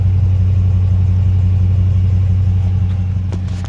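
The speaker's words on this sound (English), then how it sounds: "You guys want to hear the revs." A 2016 Dodge Charger R/T with Borla Pro XS mufflers idles and revs up close, giving a loud, deep, steady exhaust rumble with a slight rise toward the end.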